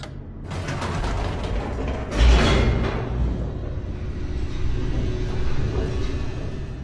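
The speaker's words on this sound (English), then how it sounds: "The elevator raced downward, plummeting towards an unknown fate." Mechanical elevator descent in The Stanley Parable: a steady rumbling, creaking drone of gears and pulleys running continuously, with a brief louder clunk partway through, and no voices.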